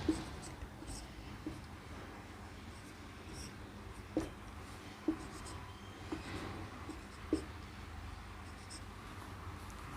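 A pen or marker scratching out a fractions example for a maths lesson, soft, steady writing strokes with a few sharper taps, heard close under a low room hiss with a faint murmur.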